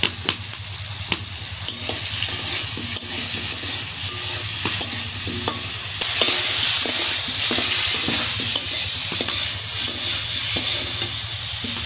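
Green mango pieces fry in mustard oil with turmeric and salt, a loud continuous sizzle under repeated scraping and stirring strokes of a spatula against the pan, intensifying midway.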